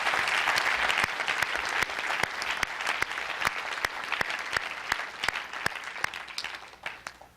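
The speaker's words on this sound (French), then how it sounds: "Est-ce qu'on peut juste applaudir le courage de ces personnes?" Audience in a church meeting clapping, a sustained round of applause with sharp individual claps standing out, fading slightly toward the end, no speech.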